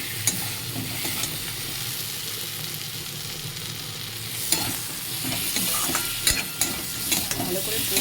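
Pointed gourd, potato and prawns frying with spices in a pan, a steady close sizzle with scraping stirs and a few sharper clacks of the spoon, no talking.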